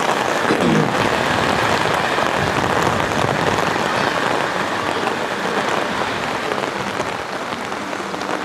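Rain falls steadily at Bekal Beach in the evening, a dense, continuous hiss of drops on surfaces close by, easing slightly toward the end, with no voices.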